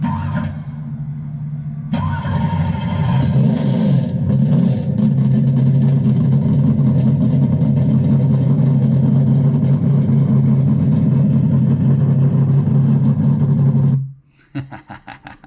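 Harry Gant's Skoal Bandit Oldsmobile race car engine starting and running, a loud, rough, throaty idle with blips of revving that holds steady, then cuts off abruptly near the end.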